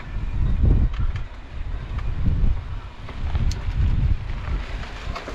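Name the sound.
strong wind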